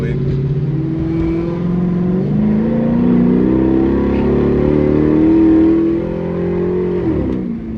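A 5.7L HEMI Dodge Charger Pursuit with an SRT AirAid intake and exhaust cutouts open accelerates hard, its loud, close engine rising in pitch through a rev climb before easing off near the end.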